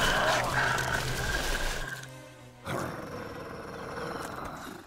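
Wolf in the animated series Horseland growling and roaring loudly and continuously for about two seconds, then a short pause and a second rough, noisy growl, with no talk.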